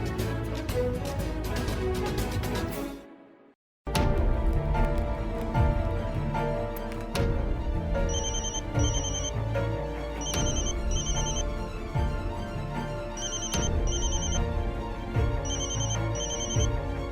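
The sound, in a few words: telephone ringing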